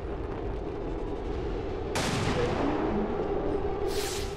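Gunfire in XCOM 2: War of the Chosen rings out as a sudden loud shot cracking over a steady low battle drone, followed by a second burst near the end.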